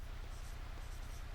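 Pen or chalk writing out a math formula, a faint scratchy stroke texture with rhythmic low taps, continuous over a brief moment with no talk.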